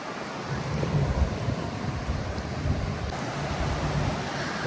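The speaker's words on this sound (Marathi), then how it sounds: "हो मोठ्या लाटा आहेत." Big sea waves breaking on a beach at Calangute or Morjim in Goa, a continuous loud roar of surf mixed with wind buffeting the microphone, with no voices.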